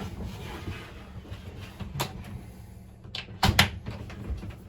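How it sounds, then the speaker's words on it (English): Sliding doors inside a 2022 Wildwood 42DL travel trailer roll and thump shut at close range, with a couple of sharp knocks near the end and quieter handling before. "You're just sliding that up, and then you can slide your doors."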